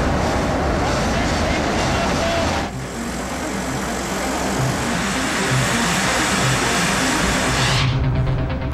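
A tunnel boring machine runs loud and continuous, a dense broadband roar with a steady low rumble that shifts character partway through and persists throughout; speech may be present.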